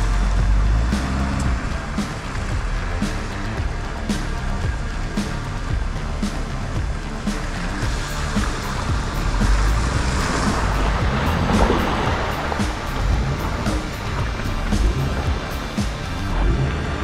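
A stock pickup truck on balding tires churns through a mud bog in the Colorado Rockies, a steady engine roar and sloshing mud filling the whole stretch, loud and continuous with wind buffeting the microphone.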